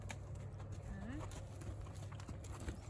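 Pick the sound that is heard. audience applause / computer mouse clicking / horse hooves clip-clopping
horse hooves clip-clopping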